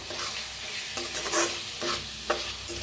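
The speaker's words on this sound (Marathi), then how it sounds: "आता ह्याच्यात टाकूया आपण टमाटो, थोडीशी कोथिंबीर आणि याला मिक्स करून छान असं भाजून घेऊया।" Tomato and coriander fry with onion masala for a bottle gourd bhaji, sizzling close up while a spoon scrapes through in several quick strokes.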